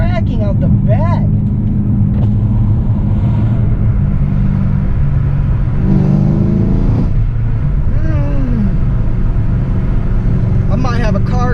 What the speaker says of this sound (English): The sound of this exhaust banging out back is crazy.